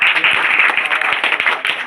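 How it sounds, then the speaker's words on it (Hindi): An audience of children claps together at a patriotic school speech, brisk and steady, close and fairly loud for a couple of seconds. "फिर से एक बार ताली बजा दो"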